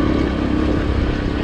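A Racer 110 motorcycle engine running during gentle break-in riding, a brief steady low drone close by with a faint putter, no talking.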